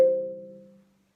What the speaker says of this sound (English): Contrast that with this other mallet I have, which is a smaller head, thinner yarn, and more tightly wound